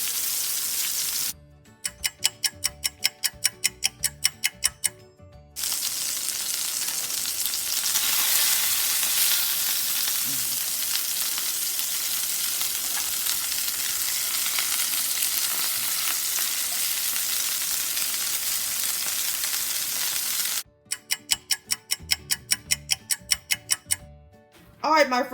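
Hamburger patties fry in a skillet with a steady, bright sizzle and crackle that fills the clip, interrupted at the start and end by bursts of rapid, regular ticking clicks.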